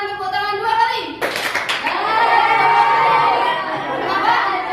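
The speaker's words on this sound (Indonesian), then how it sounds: "Silahkan tepuk tangan 2 kali." A classroom of children claps in a short burst of two quick claps, followed by a lively murmur of young voices and chatter.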